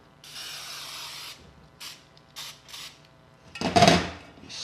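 Several short hissing bursts of cooking spray into a bundt pan, uneven and sputtering, ending in one louder blast with a rattling can sound.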